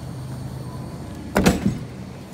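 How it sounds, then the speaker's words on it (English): The door of a Hussmann refrigerated display case drops with one short rattling thud and a smaller knock right after, against a quiet room hum. "Just like so, and then the door will come down."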